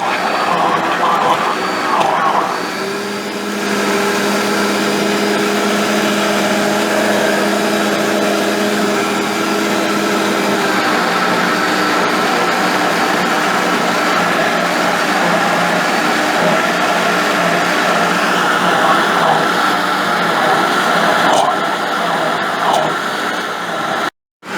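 A kitchen blender whirs continuously, mixing oat flour into a homemade paste food for betta fish; the motor drone is loud and steady, with a slight shift in pitch partway through before cutting off abruptly at the end.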